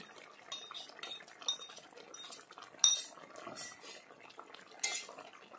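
Spoon stirring ground cumin paste into a thin papaya and fish curry in a pot, giving soft scraping and occasional metal clinks against the pan, fairly quiet and close, with no talking.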